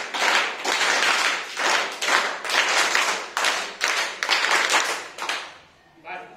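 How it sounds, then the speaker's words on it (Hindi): A group of people performs panch tali clapping, with dense bursts of many hands in repeated clusters that end with a brief quiet tail, loud and close. "पंचताली मतलब पहले दो बार ढीले और तीन बार तेज।"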